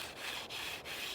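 A wooden spindle is spun by hand against a wooden board to make a friction fire, giving a continuous dry rasping rub that pulses with each stroke, close and fairly loud, with no voices.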